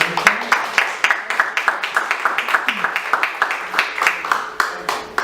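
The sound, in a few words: audience applause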